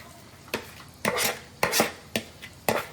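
Kitchen chopping with a knife on a board, five or six sharp separate strikes about half a second apart, close and clear with no talking.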